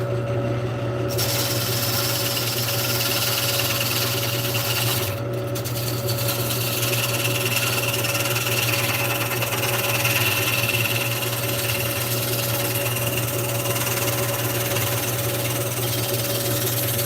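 A lathe turning a large wood blank while a spindle detail gouge cuts it, producing a steady motor hum under a continuous rough scraping and shaving noise, close and fairly loud, with brief breaks in the cut.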